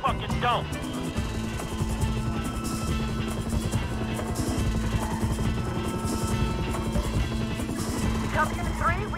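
Police helicopter in a video game, its rotor chopping steadily at a moderate level amid game sounds, with radio-style voices talking over it throughout.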